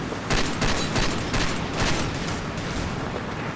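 Sustained gunfire in Far Cry 2, a dense burst of automatic shots and heavy-caliber fire at an outpost, rattling steadily and loud throughout with a few sharper volleys standing out.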